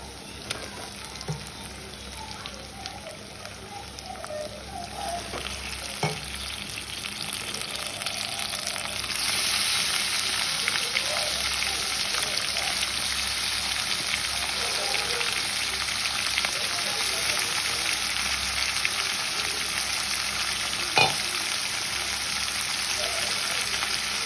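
Cut, washed meat pieces frying in a pot, a continuous close sizzle that swells louder about halfway through, with an occasional utensil knock and no speech.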